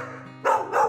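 A rescue dog gives two quick, loud barks close by, one right after the other, over a low background hum.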